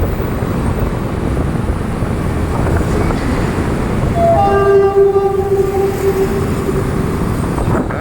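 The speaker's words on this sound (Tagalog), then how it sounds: "Ayun, may train na sa kabila." A train passes on the opposite track beside Osmeña Highway heading toward Makati, its wheels rumbling steadily under road and traffic noise, with a sustained multi-tone horn sounding for several seconds partway through.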